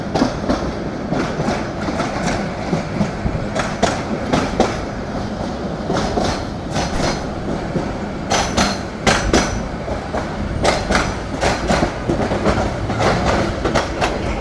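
Sonar Bangla Express train rolls along the rails through a curve, with a steady low rumble and repeated sharp clickety-clack wheel impacts coming in bursts, loud and close.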